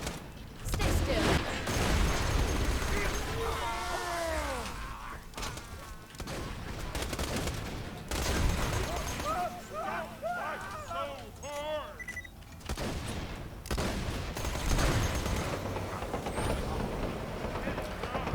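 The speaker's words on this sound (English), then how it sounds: "I'll keep this flame SMG going" Flame SMG firing in a Borderlands game, heard as dense bursts of gunfire and crackling effects mixed with other game sounds, steady and loud throughout.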